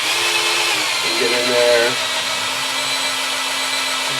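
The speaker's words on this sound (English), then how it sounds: "if you have a good drill bit, it only takes about a minute" A power drill bores out a stripped bolt in a broken chair lock, a steady high motor whine with pitch shifts as the bit bites, close and loud, while a person speaks briefly over it.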